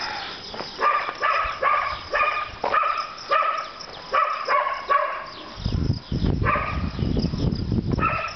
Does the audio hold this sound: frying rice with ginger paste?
no